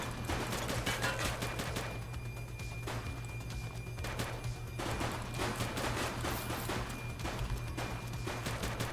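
Gunfire from the video game The Precinct rattles in sustained, loud automatic bursts over a steady low hum. The shots run almost continuously with only brief lulls.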